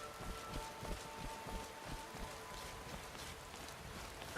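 Steady rainfall in the video game Skyrim, a continuous soft patter across the scene with a gentle, even wash of drops and no voices.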